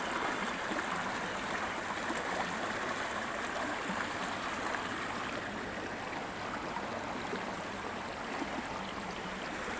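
Floodwater after heavy rain pours steadily over a flooded village road and stream, a continuous rushing wash of water that stays even and fairly loud throughout with no voices.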